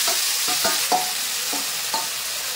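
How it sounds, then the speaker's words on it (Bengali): Spice masala stir-frying in ghee and white oil for chicken chaap, a loud, steady sizzle broken by several rhythmic spatula scrapes, close up and with no voices. "এই মশলাটা কিন্তু সুন্দরভাবে কষিয়ে নেবো এখন আমি"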